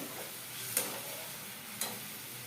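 Ginger and spices are stirred in a pan over a raised gas flame: two quick scraping strokes of a utensil over a faint, low sizzle.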